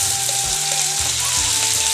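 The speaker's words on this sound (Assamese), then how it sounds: "তেলটো মোৰ গৰম হ'ল, সেইকাৰণে মই পিঁয়াজ হেৰি কৰিছোঁ" Onion frying in hot oil for a village-style chicken dish makes a continuous, fairly loud sizzle, with a faint hum running beneath it and no talking.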